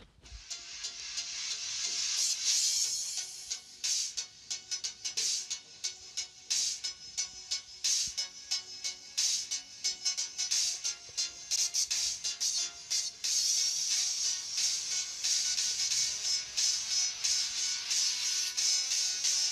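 Music track played back through TOPK L21 budget wireless earbuds, captured as a thin, bright, hissy sound with a steady rhythmic pulse, loud and continuous throughout with no talking.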